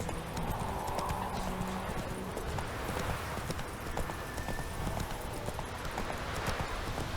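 Roach the horse gallops in The Witcher 3, a continuous run of rhythmic hoofbeats over steady in-game ambience.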